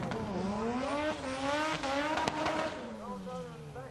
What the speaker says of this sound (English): Wow, that thing's moving pretty fast.